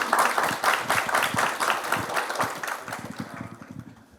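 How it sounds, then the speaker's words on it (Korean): An audience of pharmacy students applauds a lecturer at the close of a special guest lecture, with lively, dense clapping that gradually thins and fades. "강의해 주신 센터장님께 다시 한번 박수 부탁드리겠습니다"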